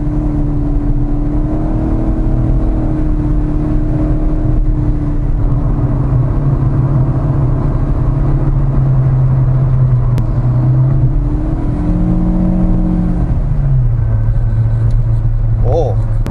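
A 2022 Proton Persona accelerates in S mode, heard from inside the cabin as a loud, steady engine drone whose revs climb and shift, with faint voices underneath.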